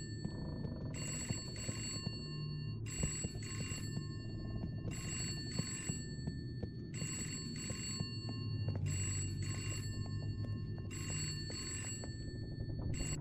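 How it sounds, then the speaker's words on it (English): A telephone rings in the horror game Mint's Hints, six evenly spaced bursts of a shrill electronic bell repeating over a low ambient drone, with no talking. "All right, answer the phone."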